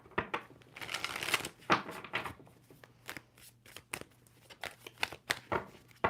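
Tarot cards being shuffled by hand in quick bursts of riffling and sliding, close and crisp, with short pauses between rapid flurries and no talking.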